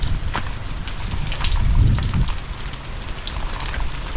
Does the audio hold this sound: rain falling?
yes